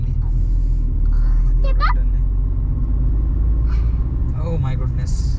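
A car engine rumbles in third gear while climbing a mountain road between Manali and Khoksar, with a steady close cabin drone and people talking briefly inside.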